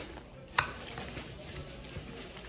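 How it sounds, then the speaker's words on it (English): A spoon stirs a raw meatloaf mix of meat, bread and egg in a bowl, giving soft wet squelching and faint scraping, with one sharp clink near the start and no talking. "So you just stir it all up here"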